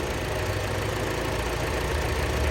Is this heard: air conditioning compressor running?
yes